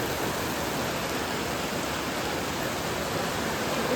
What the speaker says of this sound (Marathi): एवढा जोरात पाऊस पडतोय.